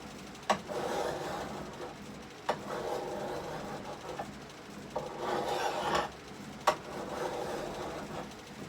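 Sandpaper rubs back and forth across a scratched wooden surface in a workshop, slow steady strokes of about a second each separated by light knocks, close and fairly quiet.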